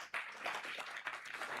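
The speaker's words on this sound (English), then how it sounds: "Clap for us." Brief clapping from an audience at a business standards launch event, a short burst of hand claps at moderate distance lasting under two seconds.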